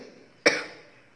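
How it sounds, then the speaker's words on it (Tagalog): A single sharp cough from a woman with a cold, one short burst standing alone in a quiet room. "Umuubo po ako."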